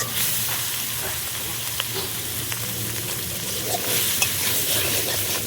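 Pork curry frying in a pan at an outdoor jungle picnic, a steady loud sizzle with occasional stirring clinks and spatters, close up and continuous without speech.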